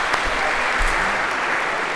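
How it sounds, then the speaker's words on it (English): A lecture audience applauds in a hall, giving a short burst of dense, loud clapping that lasts the whole two seconds. "maybe a round of applause for palm tree on an island if we could"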